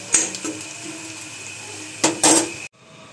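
Tap water runs steadily in a home kitchen while vegetables are being cooked, a continuous close rush with two louder surges near the end before it cuts off abruptly into quiet.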